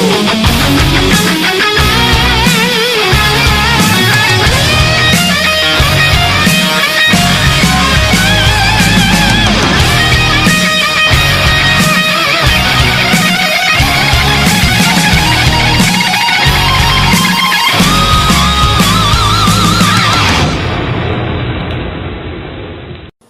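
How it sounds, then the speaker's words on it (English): A heavy metal electric guitar riff plays dense and distorted at high volume. It runs steadily for about twenty seconds, then fades out, with no talking. "That's the sound of heavy metal going on."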